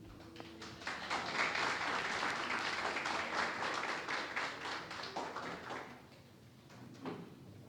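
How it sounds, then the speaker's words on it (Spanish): Church congregation clapping to welcome a prophetess to the pulpit at a Spanish-language service, a soft, distant wash of applause that swells, holds, then thins out toward the end. "recibamos con un fuerte aplauso a la profeta Johanna Lemus"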